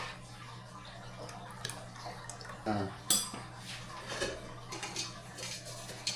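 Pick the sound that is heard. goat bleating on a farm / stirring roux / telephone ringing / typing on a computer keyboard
stirring roux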